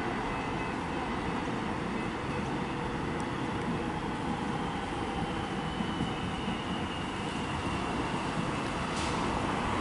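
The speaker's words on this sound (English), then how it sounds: "we've got a Mernda service arriving now. It's just about to pass over the level crossing" A Mernda line train in Melbourne rolls in over a level crossing, a steady broad rumble of wheels and traffic-like wash holding at moderate distance for the full stretch, with no voices.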